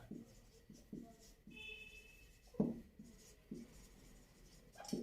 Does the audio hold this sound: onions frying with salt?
no